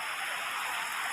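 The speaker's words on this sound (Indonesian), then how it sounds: "tuh di luar hujan deras" Heavy rain pours down on a campsite shelter during a storm, making a dense, unbroken hiss for just over a second, with no voices.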